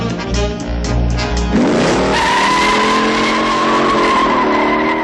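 Cars in the Steve McQueen film Bullitt's chase scene skid and squeal their tires loudly while engines roar and rev throughout.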